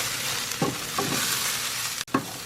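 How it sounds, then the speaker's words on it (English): Onions cook in oil in a pan with a steady bright sizzle, broken by a few soft stirring scrapes and a brief sharp knock near the end. "I'm going to let this kind of cook for just a little bit to let these onions get a little softened"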